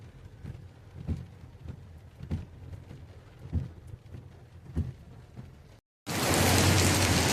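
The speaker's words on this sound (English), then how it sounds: "pouring rain at the moment" Steady rain from Cyclone Alfred falls with a dull, even hiss and soft thumps, then cuts briefly before a much louder, dense downpour roars close by.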